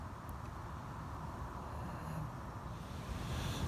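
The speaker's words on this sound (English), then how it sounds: "The wind's really picked up and I'm worried that the shelter's going to blow down" Strong wind buffeting a makeshift sleep-out shelter at night, a steady low roaring rush against the microphone, dense and continuous for a few seconds with no voices.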